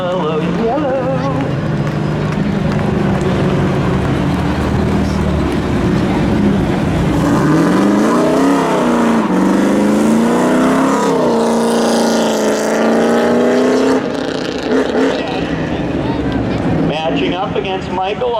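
Spectator drag racing cars at an Independence Day thrill show accelerate hard down the strip. Loud rising engine roar builds with wind noise while an announcer talks over it.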